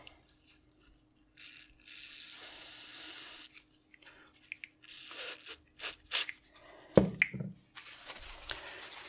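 Contact cleaner is sprayed onto the contacts of a Casio FX-850P pocket computer: several short hissing bursts of aerosol, close and fairly quiet, broken by small clicks and handling noises.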